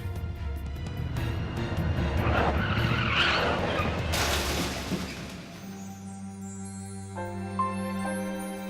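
Tyres screech loudly as a car skids in a crash, a long harsh squeal that builds and then abruptly gives way to quieter tonal sounds.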